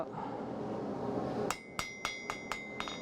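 A hammer strikes a knife blade on an anvil to straighten it, ringing out in five or six sharp metallic blows at an even, unhurried pace after a second of low background noise.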